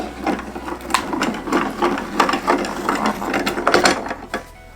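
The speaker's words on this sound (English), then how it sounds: "And then I put my mat on top and roll it through with a hand crank." An AccuQuilt die cutter's hand crank rolls a cutting mat through the machine, giving a close, steady run of rhythmic ratcheting clicks and mechanical whirring that stop near the end, with no talking.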